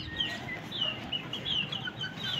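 Chickens and chicks penned on a rooftop during the bakra mandi season around Eid in Quetta cluck and chirp steadily throughout, with soft bird calls layered over a busy ambient background.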